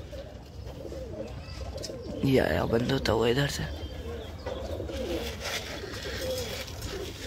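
Domestic pigeons coo softly on the ground nearby, low repeated calls mixed with faint flapping while someone talks over them.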